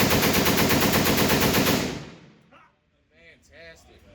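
Rapid automatic gunfire in the VR shooter H3VR, a loud close burst of fast, evenly spaced shots for about two seconds that cuts off, followed by a short spoken reaction.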